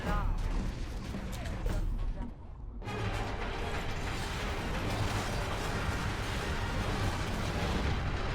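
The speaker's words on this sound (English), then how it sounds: "Damn, look at those explosions." Continuous rumbling blasts and booming explosions from the video game Warhammer 40K: Space Marine fill the clip, loud and dense, with a brief dip midway before the roar resumes.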